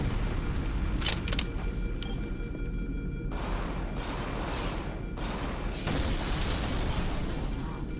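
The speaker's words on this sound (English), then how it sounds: "That explosion came from inside." A boarding-action explosion inside a ship in the Halo SPV3 game, loud broadband blasts and crackling bursts over a steady rumbling backdrop, with sharp impacts near the start and again later.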